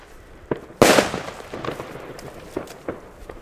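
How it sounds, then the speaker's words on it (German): Veko firecrackers set off on New Year's Eve: one very loud, sharp bang stands out among scattered smaller pops and crackles, with no talking. "Knallkörper von Veko mit extra lautem Knall"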